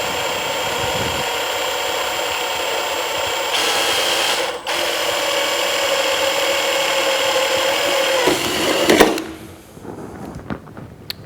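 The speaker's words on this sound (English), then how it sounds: "Drilling slowly with a light amount of pressure, we're going to drill each of these holes." A drill bores slowly with light pressure into a sheet metal toolbox, a steady whining hum that runs close and continuous, shifting pitch briefly midway before cutting off and leaving a few light clicks and taps.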